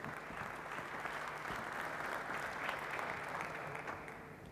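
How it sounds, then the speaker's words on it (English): Conference audience applauding at a cloud computing event, a steady wash of many hands clapping from a distance that holds evenly throughout, with no voices over it. "Please applaud them."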